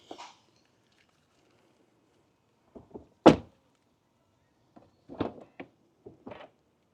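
A car door on a Tesla is shut and opened again, giving a few soft, separate thumps and clicks with one sharper, louder slam in the middle, all nearby in an otherwise quiet space.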